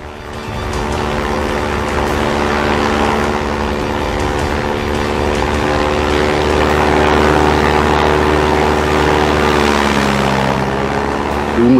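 Steady, loud engine drone of a propeller aircraft in flight, an old Skyraider plane, its harmonic hum holding constant throughout with a slight shift in pitch near the end, no voices over it.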